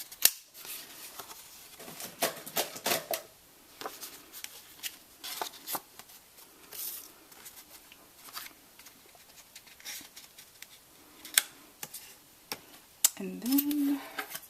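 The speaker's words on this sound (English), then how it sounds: "I'm going to angle cut up here like this." Scissors snip at an angle through card for a handmade thank-you card. Quiet, scattered cuts and light clicks spread across the stretch, with a brief murmur of voice near the end.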